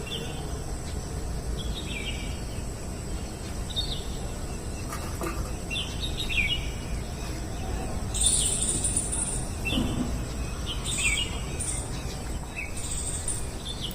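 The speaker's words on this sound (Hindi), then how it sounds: "देखिए कैसे चिड़ियाँ चहचहाने की आवाज़ें आ रही हैं" Small birds chirp and tweet outside a home balcony, the short high calls repeating at a moderate distance over a constant hiss of outdoor ambience, with no one talking.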